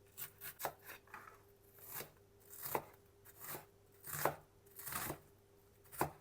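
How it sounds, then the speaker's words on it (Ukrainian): Two onions being finely chopped with a knife on a board, close, uneven bursts of quick taps repeating through the clip with no talk. "Дуже мілко буду нарізати цибулю."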